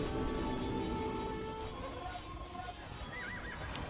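Horses neigh and whinny in an Age of Empires II match, several calls over a busy battle mix of hooves and clatter, with a short rising whinny near the end.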